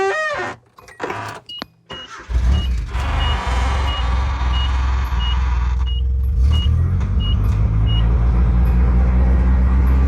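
A small Nissan pickup's engine cranks briefly, then catches and settles into a loud, steady idle up close, with a few faint chirps in the background and no talk.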